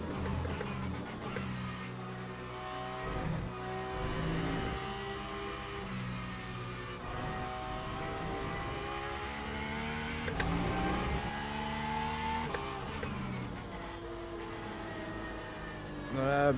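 A race car in the sim racing game Le Mans Ultimate revs in short, uneven throttle stabs, its engine pitch rising and falling over the continuous drone of the car on track.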